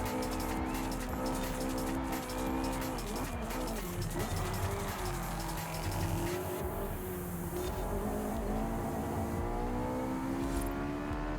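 A Ferrari race car engine roars in Forza Horizon 5, sustained and loud, rising and falling in pitch through gear shifts, with tire squeal and track noise mixed in.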